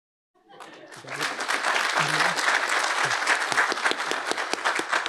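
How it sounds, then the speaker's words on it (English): Audience applause at a 2022 master's hooding ceremony for business and economics graduates, a dense, steady burst of many hands clapping that rises quickly and holds loud throughout, with a few voices mixed in. "One more round of applause for all of our Masters in Science students"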